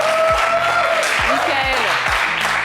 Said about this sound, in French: Et on va l'applaudir bien fort.